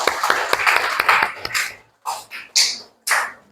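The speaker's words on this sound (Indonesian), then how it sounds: "Tepuk tangan untuk kelompok 1" Classroom audience clapping for a student group at a school presentation, a dense burst of claps in the first second and a half followed by a few scattered separate claps and sharp taps.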